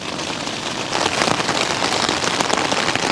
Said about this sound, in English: But since my meal, the rain's been quite consistent. It's really coming down now.